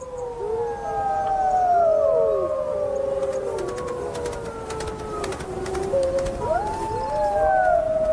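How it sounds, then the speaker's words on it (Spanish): A chorus of wild wolves from a family pack with pups howling, multiple long sliding calls weaving over one another, rising and falling, fairly loud over a low ambient rumble. "Ahora escucha aullidos que le resultan familiares."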